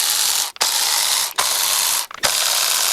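A ratchet wrench loosens the valve cover bolts on an engine, clicking in steady, rapid runs broken by three brief pauses as the handle swings back. It sounds close and loud, with no voices.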